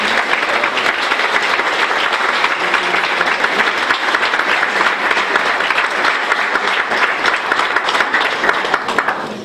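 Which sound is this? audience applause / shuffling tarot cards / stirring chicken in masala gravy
audience applause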